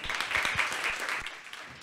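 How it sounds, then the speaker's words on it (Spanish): An audience applauds at the close of a women-in-technology event, a steady patter of clapping hands that fills the room briefly before fading. "un aplauso para todos."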